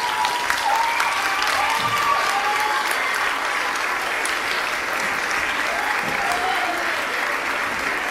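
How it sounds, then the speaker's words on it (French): Warm, dense applause from a large audience at a Gainsbourg Rewind show, a steady sustained roar of many hands that holds evenly for several seconds. "si elles peuvent venir récupérer les applaudissements chaleureusement gagnés"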